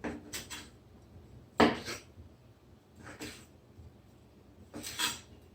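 A kitchen knife slicing the stems off a kohlrabi, four short crisp cuts and knocks on a board spaced a second or so apart, close and fairly quiet.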